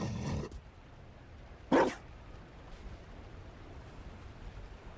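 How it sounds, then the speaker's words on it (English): A Mabari war dog in Dragon Age: Inquisition gives two sharp, close barks, one at the start and another near two seconds, over quiet game ambience. "You found a dog."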